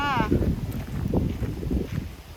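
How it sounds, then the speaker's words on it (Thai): Strong wind on a mountain buffets the microphone in a continuous low, gusting rumble that rises and falls throughout, with a brief faint warbling tone at the start. "แต่ลมแรงน่าดูเลยค่ะ"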